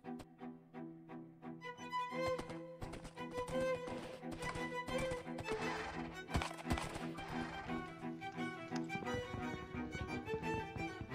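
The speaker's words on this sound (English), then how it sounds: "get on my horse," Horse hooves gallop in the fantasy game Realm of Vasten, a steady rhythmic clip-clop of a ridden horse set under a constant layer of game music, moderately loud throughout.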